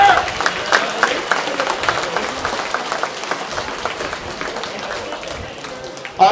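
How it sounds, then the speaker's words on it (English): A banquet audience at a hall of fame dinner gives the dining staff and cooks a round of applause, dense clapping mixed with scattered voices and cheers that fades slightly before a brief loud burst at the end. "let's give the Great Western Dining staff and cooks a phenomenal round of applause"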